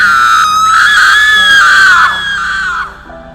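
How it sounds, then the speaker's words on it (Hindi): A terrifying high-pitched scream for a haunted-village horror story, loud and wavering, echoing for about three seconds before fading out. "चारों ओर एक भयावह चीख गूंजी।"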